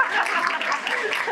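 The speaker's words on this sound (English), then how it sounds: "Let's give them applause." Applause in a caucus hearing room during a legislative session, a dense, steady patter of clapping lasting just over a second with murmured voices mixed in.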